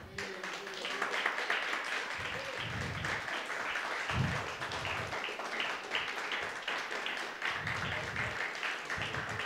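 A church congregation claps steadily for several seconds, a dense patter of applause that stays full and even throughout.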